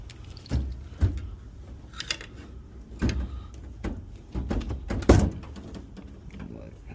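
A desk drawer being yanked repeatedly while stuck as if locked, a series of sharp knocks and thunks at uneven intervals, close and fairly loud, with no talk in between.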